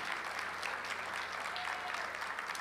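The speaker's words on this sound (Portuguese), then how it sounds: "Vocês podem aplaudir a Deus por isso, gente?" A church congregation applauds during a sermon, a steady, even wash of many hands clapping together at moderate level with no break for its short duration.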